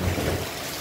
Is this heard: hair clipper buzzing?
no